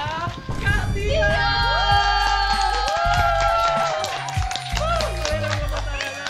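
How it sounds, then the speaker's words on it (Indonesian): A crowd at a university design students' game event claps and cheers for the announced winner, lively clapping mixed with shouts and whoops over a thumping low background beat and tonal sounds. "Boleh dong tepuk tangan untuk Kak Tia."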